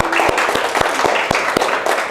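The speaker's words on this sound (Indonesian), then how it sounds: "Kalau gitu kita beri tepuk tangan buat kita semua" Applause closing a university lecture at Universitas Jenderal Soedirman, with a steady wash of clapping broken by a few sharp, louder individual claps from a nearby listener.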